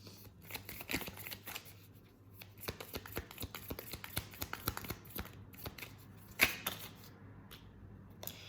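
A deck of love oracle cards is shuffled in quick bursts of crisp riffling and snapping, with one sharper slap near the end, all close up and with no talking.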